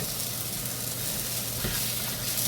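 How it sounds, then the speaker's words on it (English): Food sizzles loudly in a cast iron pan while a utensil scrapes across the bottom, a dense continuous fry with a brief scraping accent near the end, no talking. "But just keep scraping. It will not hurt this pan."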